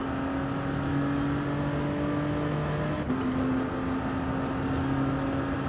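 A steady Peugeot race car engine drones in Gran Turismo Sport on the Circuit del Sol track, its tone holding level and shifting slightly midway, loud and continuous with no talk over it.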